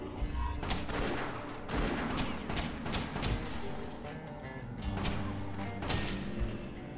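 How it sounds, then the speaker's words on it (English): Pistol shots ring out in the western shooter West of Dead, a loud flurry of rapid repeated cracks and thuds in bursts across the whole stretch, with no talking. "the pistol is very weak, but at least I can just spam the guy and kill him"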